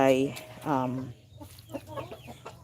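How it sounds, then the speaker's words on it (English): Chickens cluck and squawk close by while feeding on spoiled tomatoes, a few loud vocal bursts followed by softer scattered clucks and pecking noises. "the chickens will still love eating those tomatoes"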